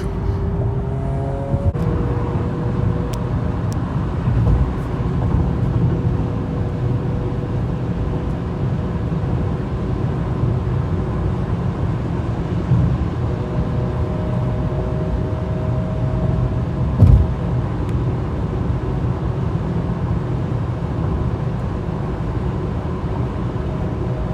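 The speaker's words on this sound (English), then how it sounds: "I'm driving his mom's car back." Steady engine and road rumble from inside a car moving on a freeway, a constant drone with faint tonal whine and an occasional bump.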